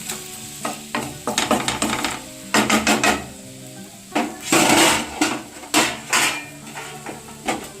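Chicken pieces being mixed with a little water in a pan for a low-oil South Indian style chicken dish, with repeated close scraping and stirring strokes and light sizzling in uneven bursts.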